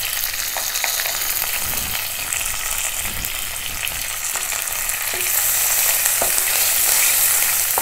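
Asafoetida and curry leaves frying in hot tempering oil, a steady loud sizzle with faint stirring scrapes, swelling slightly louder toward the end, no voices.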